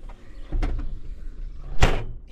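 A heavy vehicle door moves with two distinct thumps, a dull knock early and a sharper, louder clunk near the end, close by over a low background rumble.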